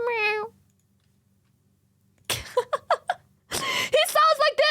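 A pet cat gives a short, high, plaintive meow, then someone talks and imitates the mournful sad-cat-meme meow with her voice.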